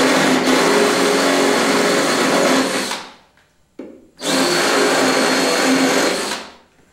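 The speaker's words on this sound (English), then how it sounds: "I'm using a drill to drill the corners" A power drill whines steadily for about three seconds while drilling into cement backer board, stops briefly, then runs again for another two seconds, loud and close.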